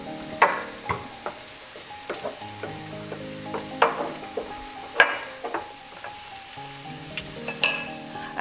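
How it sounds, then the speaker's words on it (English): Soy sauce hitting TVP in a hot pan for Iranian lubia polo, with a steady loud sizzle and frying hiss under repeated sharp clinks of a spoon stirring against the pan. "I'm going to be adding a couple of spoonfuls of soya"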